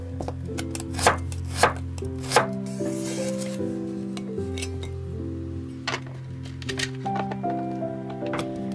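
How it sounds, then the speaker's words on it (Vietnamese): A knife slices two shallots on a cutting board, giving a few crisp chops early on and lighter taps later, set against steady background music. "2 củ hành tím này đó thì mình xắt lát ra"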